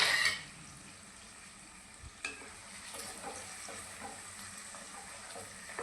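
Jujube pickle with melted jaggery on a low flame, with a faint continuous sizzle and an occasional soft stirring scrape or clink.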